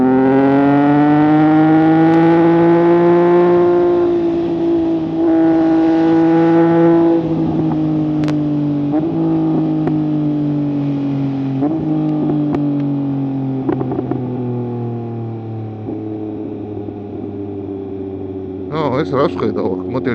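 A car engine in Forza Horizon revs and holds steady tones while driving, with pitch rising and falling through gear changes; a brief burst of other noise near the end.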